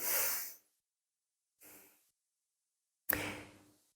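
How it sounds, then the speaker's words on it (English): Slow breathing through both nostrils during a meditation exercise: a long exhale, a quieter inhale, then another sharper breath, close and separated by silence. "we do the last round with both nostrils, inhaling with both, exhaling with both"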